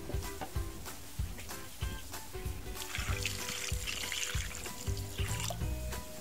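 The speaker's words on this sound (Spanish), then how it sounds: "vamos a echarle agua." Water trickles and splashes as it is poured into a clay pot of corn tamales wrapped in husks, with light knocks and clatter of the pot and leaves, fairly quiet and close.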